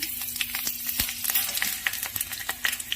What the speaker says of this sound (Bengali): একটুখানি ভালো করে ভেজে নেব কাঁচা লঙ্কাটা।